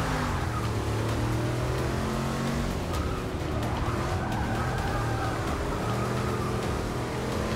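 A car spinning out during a Forza Motorsport 6 race, a steady engine drone with skidding tire noise and shifting pitch sweeps, continuous and fairly loud throughout with no talk.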